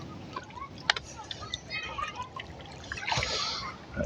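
A small northern pike released by hand back into the water, giving light close splashes and trickles with a brief sharper splash early on, faint and near, with some speech around it.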